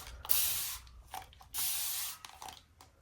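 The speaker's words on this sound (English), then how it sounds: "This is the spray bottle." A handheld spray bottle spritzes fine mist over fabric in two long hissing bursts, each about half a second, with soft clicks and handling noise between them.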